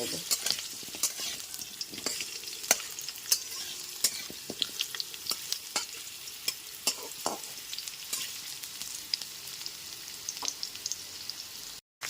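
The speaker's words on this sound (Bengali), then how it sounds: "গ্যাসের ফ্লেমটা মিডিয়ামে রেখে রাঙা আলুগুলো একটুখানি ভেজে" Sweet potato pieces fry and sizzle in a pan over a medium gas flame, a steady bright crackle broken by frequent stirring scrapes and clicks, close by and with no talking.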